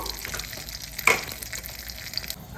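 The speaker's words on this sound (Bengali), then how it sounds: "শুকনা লঙ্কা দেবো বাদাম একটু অল্প বাদাম একটু বেজে নেব" Peanuts roasting with dried chillies in a hot pan give a continuous close sizzle, with one sharp clack of a utensil partway through and light scraping as they are stirred.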